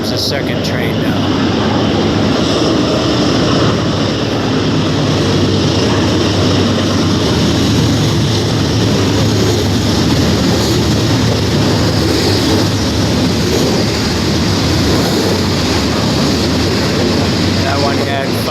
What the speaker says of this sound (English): Here comes the second train now.